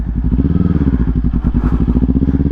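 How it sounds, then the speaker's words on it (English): A motorcycle engine revs briefly and pulls away from a stop as the clutch is released, a loud, close, rapid pulsing thrum that holds steady throughout without talk. "you can simply give it a little rev and just kind of let go of the clutch like this"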